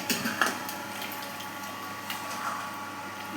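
Water with meat being poured into a cooking pot for a South Indian mutton head curry, a steady low wash of liquid with a few splashy bursts, close and fairly quiet, no talking.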